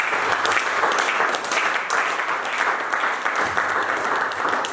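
Church congregation clapping in praise of Jesus, a steady, dense wash of applause from many hands that fills the space without pause, with faint voices underneath.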